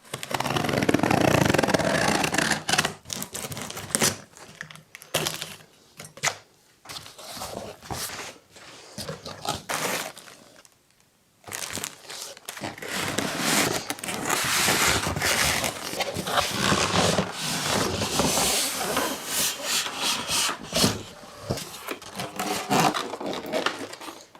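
Sewing machine being unboxed, with packaging rustling, crinkling and being pulled apart loudly and close for most of the time, one brief near-silent pause midway.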